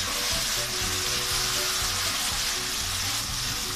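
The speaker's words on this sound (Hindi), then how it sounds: "एक टीस्पून गरम मसाला इस डाल के फिर चम्मच चलाना है और अच्छे से भूनना है" Onion masala with garam masala frying in a pan for a poppy seed (khas khas) salan, a loud, steady sizzle filling the clip with faint stirring of a spoon, close and uninterrupted, no talking.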